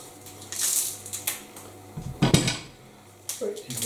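Whole beetroots with their tails left on dropping into a pressure cooker, a series of close metallic clunks and knocks with louder clattering in the middle.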